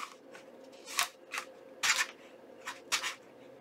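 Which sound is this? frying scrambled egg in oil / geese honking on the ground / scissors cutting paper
scissors cutting paper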